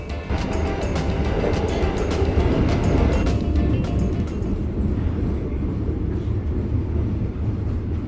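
The Lembah Anai passenger train, hauled by a rare BB 303 diesel locomotive near Padang, rumbles steadily with a loud low roar and clattering, the upper noise thinning toward the end.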